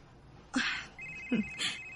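A telephone rings with a steady electronic tone, mixed with short bursts of sharper noise. It sounds clear and fairly close, and no one speaks over it.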